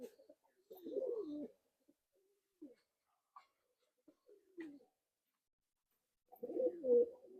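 Pigeons in a loft give soft, throaty cooing calls, one burst near the start and another toward the end, with scattered faint rustles and short sounds in the quiet between.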